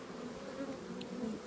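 Honeybees swarming around an opened beehive during hive work, giving a steady, dense drone of buzzing wings close by.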